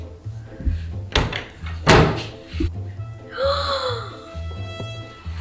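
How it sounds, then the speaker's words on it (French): A bedroom door is opened with a couple of thuds and a sharp knock or clunk. Voices react with gasps and exclamations right after. "Vas-y, ouvre la porte."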